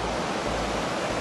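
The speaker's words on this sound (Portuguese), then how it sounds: "Tem um riacho aqui do lado" A small stream runs right beside a rocky coastal walking trail, giving off a constant, close, hissing rush of flowing water with no voices over it.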